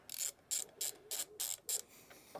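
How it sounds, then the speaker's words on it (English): A ratchet with a 5/8 socket loosens a nut on a Case 430 diesel, giving six quick, evenly spaced clicking bursts up close before falling quiet. "So that takes a 5/8 socket, pull that nut off"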